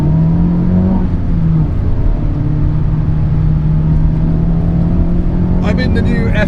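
A facelifted 2021 Honda Civic Type R FK8 drives on a race track, its engine a steady droning hum with a slight rise in pitch, heard from inside the car, ending in a brief rattle.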